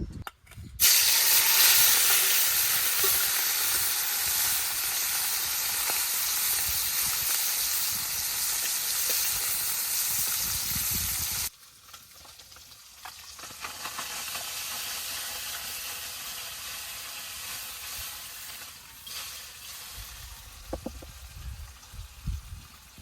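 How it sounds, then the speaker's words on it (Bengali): Spiced puti fish dropped into hot oil, giving a loud, dense frying hiss that runs for about ten seconds, then stops suddenly and gives way to a quieter, crackling sizzle with scattered pops. "গরম তেলে যে মশলা মাখানি পুঁটি মাছ দিয়ে দিই।"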